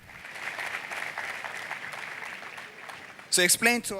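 A church congregation applauds steadily for about three seconds at a moderate, even level, then a voice begins speaking over the fading claps.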